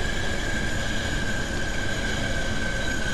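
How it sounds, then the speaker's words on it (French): Landing gear extending in an F-16 flight simulator game, heard as a loud steady broadband rumble and rush with a thin constant whine on top, unbroken for the whole few seconds. "250 nœuds, on sort le train."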